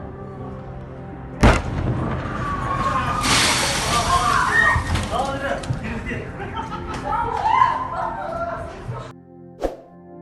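An explosion at an arms depot in Arys opens with a sharp, loud blast and then rolls into a sustained roar with crackling and sloshing. Voices can be heard under it before it cuts off, followed by one brief bang.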